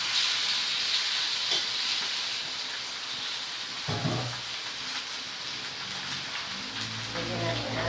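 Chicken frying in a pan for pininyahang manok, a steady broadband sizzle that rises when the meat goes in, with faint voices under it.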